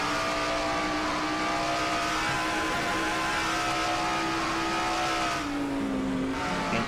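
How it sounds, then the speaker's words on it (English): Number 9 Coors Ford stock car accelerating hard in a racing video game, a steady loud engine drone with rising and shifting tonal whine, accompanied by other cars' engines, alone without talk. "Jessica now floors the throttle in her number 9 Coors Ford"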